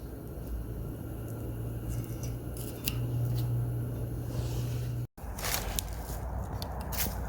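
Steady close scraping and slicing as an X-Acto knife cuts masking tape around the lock cylinder on the frame of a 1978 BMW R 80/7 motorcycle, continuous over a low hum with a brief gap.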